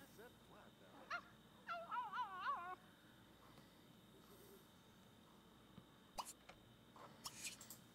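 A puppy in The Sims 2 gives a few faint, high, wavering whimpers over quiet game ambience, then soft brief yips near the end.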